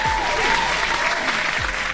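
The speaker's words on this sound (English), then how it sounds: "So, hand clap to Paul" Steady applause from many hands clapping at once, a dense, even wash of claps with no voices over it.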